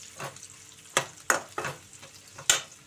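Sliced onions frying in a pan with salt and green chillies, a soft sizzle under several distinct scraping stir strokes spaced irregularly, fairly quiet and close.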